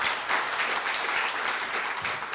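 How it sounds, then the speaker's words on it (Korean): Steady applause from a university forum audience at a Korea University future-university event, full and continuous from start to finish without a break. "다시 한번 큰 박수를"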